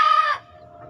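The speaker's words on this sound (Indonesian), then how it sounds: "ini adalah keturunan ayam Bangkok" A Bangkok rooster crows once, loud and close, in a short harsh call that cuts off quickly.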